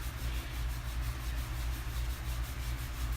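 Chalk paste rubbed in a steady circular motion over a transfer, a soft, faint, continuous scratchy rubbing with a gentle repeating rhythm, heard alone.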